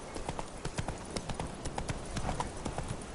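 Hooves of the horse Roach clip-clopping at a gallop in The Witcher III video game, a quick steady rhythm of close hoofbeats with no other sounds.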